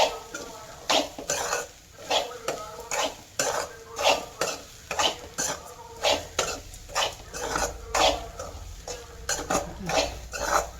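Repeated rhythmic scraping of a utensil against a pan as grated coconut is roasted, steady strokes about once a second, with a faint sizzle underneath and no talking.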